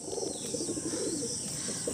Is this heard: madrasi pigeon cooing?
yes